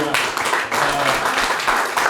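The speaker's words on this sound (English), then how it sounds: "Can we give a little round of applause?" A seminar audience in a restaurant event gives a short round of applause for the organizer, scattered clapping beneath a voice speaking over it.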